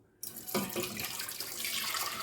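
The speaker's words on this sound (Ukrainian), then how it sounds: "Пройшло 15 хвилин і я виливаю в каструлю" Boiling water poured from glass jars of tomatoes into a pot, a steady splashing, gurgling stream that starts abruptly after a brief quiet moment and continues close by without talk.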